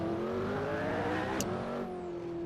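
McLaren P1 GTR race car engine in a racing video game, a steady loud droning rev with harmonic whine that holds high, dips briefly mid-clip, then settles back to a sustained tone.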